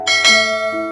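A single bright bell chime rings out with a shimmering metallic tone, struck once and left to ring briefly.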